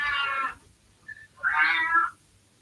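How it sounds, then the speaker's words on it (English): A cat meows twice, close and clear in a quiet indoor room, with a short faint chirp between the two calls. "A nice scared little pussycat."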